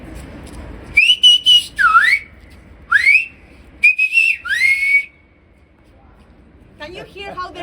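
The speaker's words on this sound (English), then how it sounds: "There are investigations saying that the whistle language can be heard over 3 kilometers away" Silbo Gomero-style whistled language rings out across a ravine in Tenerife, a series of loud, sliding whistled phrases with pauses between them, followed by a brief burst of voices.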